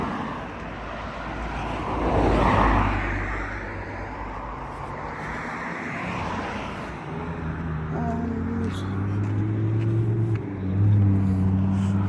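Cars pass on a busy road, a steady traffic roar swelling as nearby vehicles sweep by, with low engine hum and wind buffeting the microphone, and no talking.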